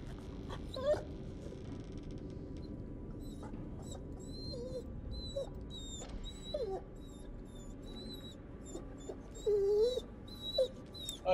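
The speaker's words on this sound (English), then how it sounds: "Hey, that's the dog, Chad." A dog whimpers and yips in the horror video game The Devil in Me, giving thin, high, wavering cries in brief bursts over a steady low rumble of game ambience, with louder whines near the end.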